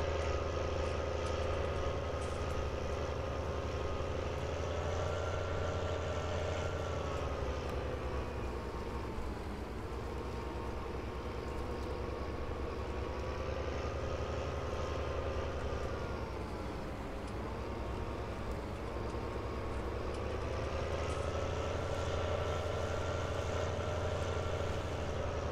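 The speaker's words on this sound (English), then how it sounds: "This is a quiet tractor." A quiet tractor engine in Farming Simulator 19 idles and drones steadily and evenly for the whole stretch, with slight swells in its tone and no voices.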